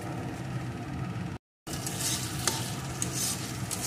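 Spice paste with tomato sauce, cooked for a soybean and dal dalna, crackles and hisses steadily in a pan, close up and fairly loud, with a brief dropout of silence partway through and no speech.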